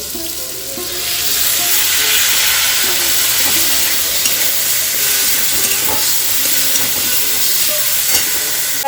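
Ginger paste and cumin powder frying with spices in a pan, a loud, close, continuous sizzle and steamy hiss with stirring scrapes, swelling after the first second, no talk.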